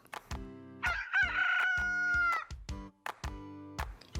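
A cartoon rooster's crow rises and holds for about a second and a half amid a series of sharp, cartoonish clicks and knocks, with no talking.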